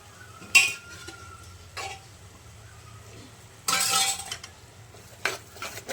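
Chickpea curry (chole) being stirred in a pot with a metal spoon, giving a few separate scraping clinks and clatters with quiet gaps between them.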